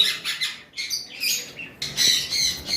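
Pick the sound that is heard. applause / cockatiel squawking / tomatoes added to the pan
cockatiel squawking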